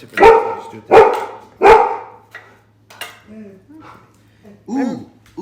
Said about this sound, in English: The dog is going by. Somebody's coming to visit, I guess.